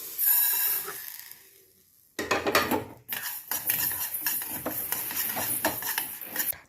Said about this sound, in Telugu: ఇప్పుడు ఆవాలు జీలకర్ర మెంతులు ఫ్రై చేస్తున్నాను